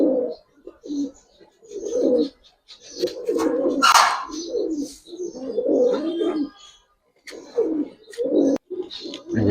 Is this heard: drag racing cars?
no